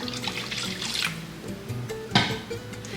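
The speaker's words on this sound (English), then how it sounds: "Got me a little chicken broth with some water." Chicken broth and water poured into a pot for a cup of rice, a close, steady liquid pour and splashing with a brief clink partway through and no talking.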